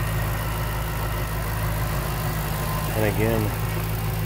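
A 2008 Ford Mustang Shelby GT500's supercharged 5.4-liter V8 idles with a steady, even low rumble close by, while someone talks over it.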